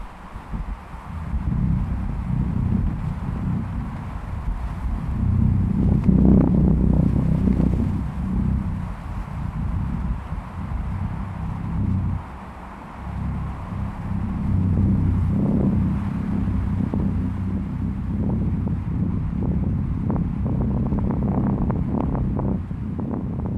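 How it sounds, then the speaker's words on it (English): Wind presses against stretched hammock fabric at a lakeside camp, a rough, gusting low roar that swells and eases over the whole stretch, fairly close and with no voices. "The wind then created another noise with the stretched out material."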